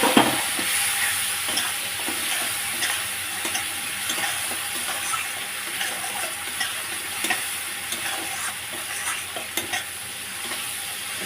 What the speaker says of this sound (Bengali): আস্তে আস্তে ভাজতে থাকি। একটু লঙ্কা আর জিরে আছে এর মধ্যে।